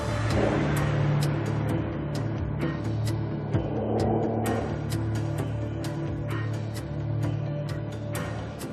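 A Nissan GT-R engine returning to the factory hums steadily with a couple of mild revs rising and falling over several seconds, heard up close without speech.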